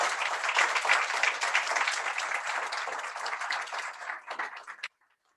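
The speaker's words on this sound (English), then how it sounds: "So please give them all a round of applause." Steady applause from a crowd at a Palatka city commission meeting, sustained and dense for about five seconds before tapering into a few last claps and stopping abruptly.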